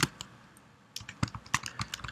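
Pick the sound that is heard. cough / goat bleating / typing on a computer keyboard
typing on a computer keyboard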